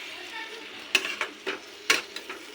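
Mixed vegetables for a vegetarian sabzi are stirred and fried in a pan, giving a faint bed of sizzle broken by a few sharp scraping strokes of the spoon.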